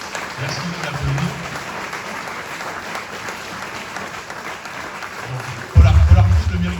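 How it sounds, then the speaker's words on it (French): Audience applause fills a New Year's wishes ceremony hall in Wormhout, a steady clapping wash with crowd noise and a voice heard over it, and a louder burst near the end. "Merci de l'applaudir."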